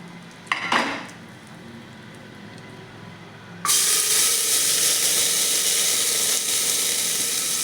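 Mixed sprouted legumes tip into hot oil seasoned with turmeric and asafoetida in a pressure cooker for usal: a brief metallic clatter, then a sudden loud, steady sizzle that carries on to the end.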